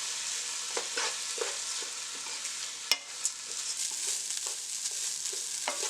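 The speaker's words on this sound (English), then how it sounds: "you want to mix this to get the color and all the flavors infused in the rice" Seasoned Caribbean rice is stirred in a pot over a soft, continuous sizzle, with light scraping clicks from a spoon repeating at irregular moments and one sharper knock midway.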